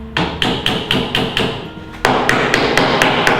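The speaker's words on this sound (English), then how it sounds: "Lie it upside down and then just hammer through any of the nails that are still in there." A hammer drives nails back through an upturned wooden floorboard in about a dozen sharp, close strikes at a steady rhythm, the later blows ringing brighter.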